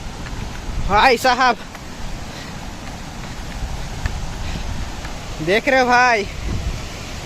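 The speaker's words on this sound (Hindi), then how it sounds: "पानी का आवाज़ तो आप लोगों को सुनाई दे रहा होगा" Steady broadband rushing of a waterfall fills the background throughout, with someone speaking briefly twice over it.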